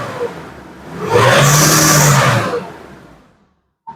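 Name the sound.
Nissan Navara D40 common rail diesel engine revving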